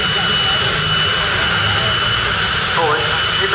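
A jet-powered drag car running a helicopter turbine engine roars with a loud, constant whine and rush at close range, unbroken throughout.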